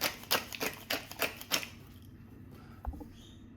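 Coarse black pepper ground in a hand mill for a sous vide pork belly spice mix: a run of six or seven sharp, rhythmic crunching bursts, fairly close, then stopping, followed by a faint clink and quiet background.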